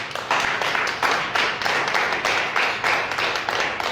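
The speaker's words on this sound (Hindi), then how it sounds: "अब ताली बजाओ यीशु के लिए।" Congregation in a Hindi-language Christian church service clapping together in a steady, fairly loud rhythm of repeated claps, heard alone without talk.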